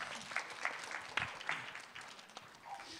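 An audience at a Seoul future-of-work conference applauds to welcome a speaker to the stage, a steady wash of moderately distant clapping with no talk over it.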